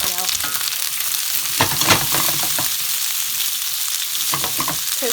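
Peppers and onions for a chicken jalfrezi sizzle and fry in a pan, a steady hiss with intermittent clicks and scrapes of stirring, close and alone without talk.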